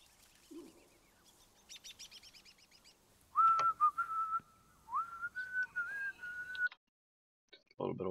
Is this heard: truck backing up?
no